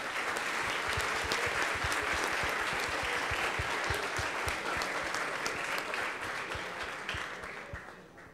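Sustained audience applause at the ICPC Latin America Championship closing ceremony for programming teams, dense steady clapping from a large crowd filling the room, tapering slightly toward the end.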